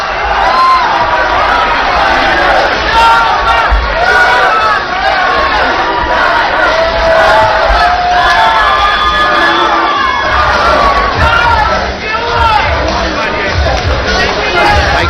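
A packed fight crowd at the Hard Rock Hotel and Casino roars and cheers without letup, a loud, dense wall of shouting and whooping that swells and holds for the whole stretch.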